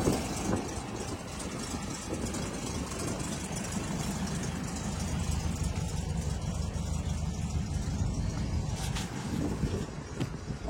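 A 1964 VW Combi T1 21-window bus with a 1600 engine idles at a steady, even putter, moderately close and alone, with no talk over it.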